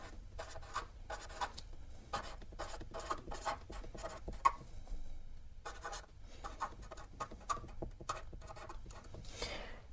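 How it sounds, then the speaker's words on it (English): A marker writing the serving size on a Mylar food storage bag, a series of quick scratchy strokes in short bursts with brief pauses, close and fairly quiet. "I always write down the serving size."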